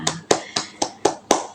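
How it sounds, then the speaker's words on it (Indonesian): A small classroom group of students clapping together, six sharp evenly spaced claps in steady rhythm, close and moderately loud with no talking. "beri tepuk tangan untuk Dila dan Putri dan untuk kita semua"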